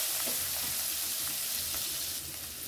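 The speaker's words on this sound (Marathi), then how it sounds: "हे बघा मस्त कोथिंबीर परतून झाली" Coriander leaves with asafoetida and cumin sautéing in hot oil in a pan for a Maharashtrian gram-flour jhunka, giving a steady close, loud sizzle and crackle throughout with no talking.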